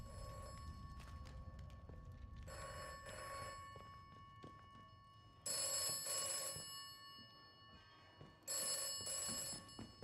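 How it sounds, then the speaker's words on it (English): A telephone rings repeatedly in the video game Atomfall, with bright, bell-like bursts sounding at regular intervals over a low, rumbling ambient background, growing louder in the later rings and with no talking. "The tele is ringing again."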